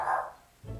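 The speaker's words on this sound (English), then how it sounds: "And there goes my dog." A small dog barks twice indoors at a moderate distance: one sharp, higher bark, a brief pause, then a lower, rougher bark, both fairly faint, with no talking in between.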